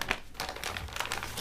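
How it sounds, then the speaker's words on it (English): A plastic bag crinkles as it is handled up close during a thru-hike gear rundown, a soft, busy rustle with small crackles and no speech. "Then, in this handy plastic bag,"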